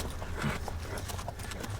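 Faint hooves clip-clop at a steady walking pace, with a low rumble of background noise underneath.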